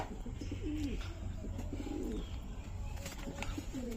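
German Panja pigeons cooing close by: several soft, rolling low coos repeat through the clip over a steady background hum, with no clear talk.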